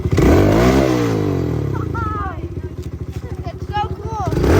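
Small Kawasaki KLX110L kids' dirt bike engine revving up and down close by, a rising and falling throaty buzz, with people talking over it.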